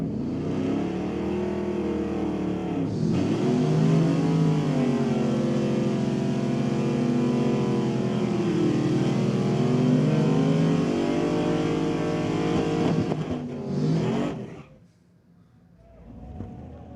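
Chevrolet C10 truck doing a burnout at a drag strip, engine held at a loud sustained high rev for about fourteen seconds with wavering pitch, then cutting off abruptly.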